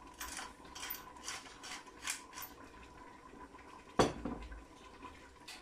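Spoon scraping and clinking inside a pot of Cuban-style red beans seasoned with oregano, spice mix and pepper, a steady series of metallic knocks and scrapes with one sharper clank near the end, no voices.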